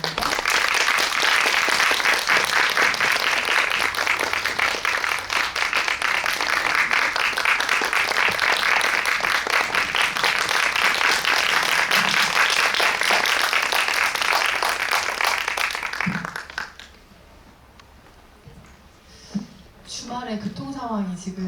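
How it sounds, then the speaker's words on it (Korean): Dense, loud applause from a cinema audience welcoming guests to a post-screening talk at a CGV multiplex, sustained for about sixteen seconds before stopping abruptly, followed by quiet and a voice speaking. "두 분을 큰 박수로 맞이해 주시기 바랍니다."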